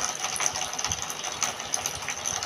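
A small household water pump motor runs steadily after being switched on to fill a tank, giving a close, continuous mechanical whir with a faint rattle and no voices.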